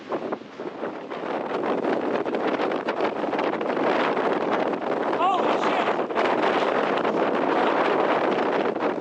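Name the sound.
strong wind at a mountain pass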